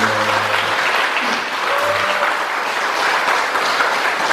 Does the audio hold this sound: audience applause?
yes